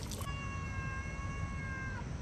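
A cat gives a single drawn-out tonal meow, close and fairly clear, over a constant background hum, ending after about two seconds.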